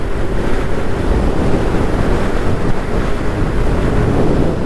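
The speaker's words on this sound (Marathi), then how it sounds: "यार हवा खूप सुटली" Strong wind blows on a roadside beside a railway track and green fields, buffeting the microphone with a loud, steady rumbling roar.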